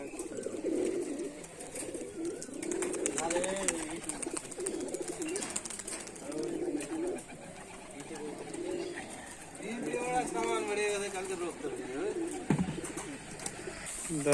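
Pigeons coo repeatedly in soft, low, rolling calls close by, with people talking over them at times and a bit of background noise.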